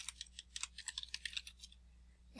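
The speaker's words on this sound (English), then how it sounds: "typing while recording" Someone types on a computer keyboard during a recording, about two seconds of quick, irregular key clicks close to the microphone, fairly quiet and without speech.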